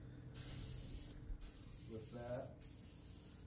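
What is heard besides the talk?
spraying Loctite rust converter on a rusted truck bed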